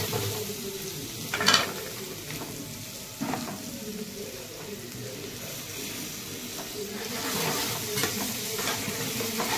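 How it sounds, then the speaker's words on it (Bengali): Ground spices with salt, turmeric and cumin powder fry in a pan with a little water, sizzling steadily up close while a spatula scrapes and clanks against the pan several times. "আমি হালকা একটু জল দিয়ে ভেজে নেব।"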